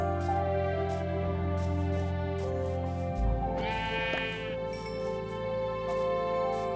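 Sheep bleating in the Minecraft video game, a single wavering bleat rising midway over steady game background tones, with no talk.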